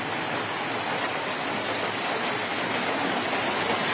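Heavy rain falls steadily onto high floodwater, a dense, even wash of hiss and splatter that lasts throughout with no voices.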